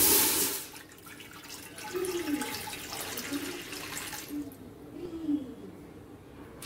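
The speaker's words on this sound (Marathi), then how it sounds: "राईस बनवण्यासाठी हे मोठं पातेलं ठेवलं आहे. यात आता पाणी टाकून घेऊया." Water pours into a large cooking pot for rice, a steady rushing splash after a brief louder start, with a low hum and faint voices in the background.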